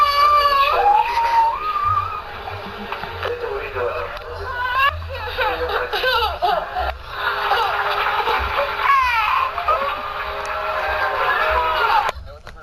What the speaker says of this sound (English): Hear the baby crying? It's hilarious.